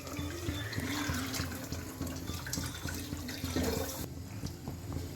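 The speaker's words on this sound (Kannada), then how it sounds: "ನಮಗೆ ಎಷ್ಟು ಬೇಕು ನೀರು ಅಷ್ಟು ನಾವು ಹಾಕೋಬೋದು ಫ್ರೆಂಡ್ಸ್." Water pours into a pot of rasam being made for about ten people, a continuous rushing and splashing in a home kitchen, steady and moderately faint throughout.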